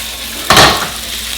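Food lightly browning in a pan on a home kitchen stove, a steady soft sizzle broken by one sharp clattering burst as it is moved or stirred, then settling back to the gentle frying hiss.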